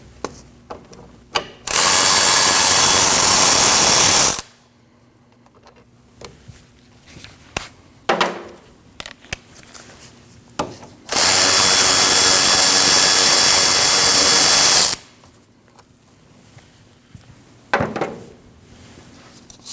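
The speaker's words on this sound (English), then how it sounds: "We need to remove these 2 14mm bolts for our caliper and caliper bracket." Two long, loud bursts of a power tool or impact wrench loosening the 14mm caliper bracket bolts on the rear brake of a 2003-2008 Subaru Forester, separated by quieter clinks and handling noises in a garage.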